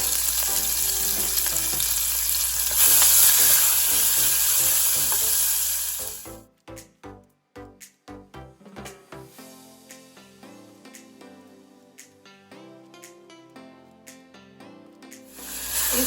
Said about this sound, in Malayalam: അപ്പോൾ എണ്ണ ചൂടായി, നമുക്കിനി ഈ സവോളന് ആ കൂട്ടത്തിനെ കുറച്ച് ഉപ്പൂടെ ഇടണം